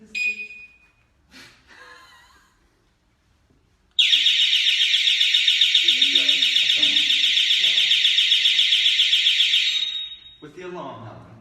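An electronic alarm suddenly starts and sounds a loud, steady, shrill tone for about six seconds during a paranormal investigation in a house in Longton, Stoke-on-Trent, then cuts off as people start talking.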